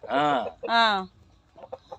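A four-year-old native game rooster gives two drawn-out, loud clucking calls close by, followed by quieter scattered clucks and rustling.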